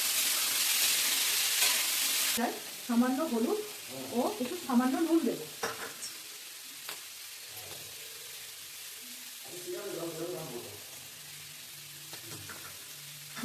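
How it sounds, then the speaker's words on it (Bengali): Potatoes and green peas fry in oil in a pan, giving a steady hiss throughout, a burst of sizzle at the start and stirring scrapes underneath; someone speaks over it in several short stretches. "আলু মোটামুটি ভাজা হয়েছে, ওর মধ্যে এবার মটরশুঁটি দিয়ে দিলাম, দিয়ে একসাথে আরো একটুখানি ভেজে নেব।"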